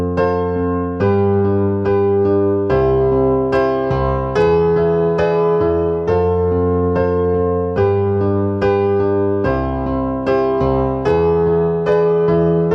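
Solo piano plays the chorus of a song as a steady accompaniment, a left-hand bass line under repeated right-hand chords, sounding close and even with no voice.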